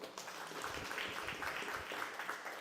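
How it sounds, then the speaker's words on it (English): A pub audience at a politics talk claps in response to a prompt, producing a faint, diffuse wash of many hands from a distance. "if you feel more divided, clap your hands"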